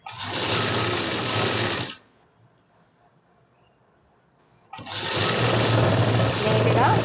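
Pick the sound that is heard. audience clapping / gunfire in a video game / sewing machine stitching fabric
sewing machine stitching fabric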